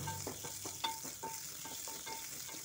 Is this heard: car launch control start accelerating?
no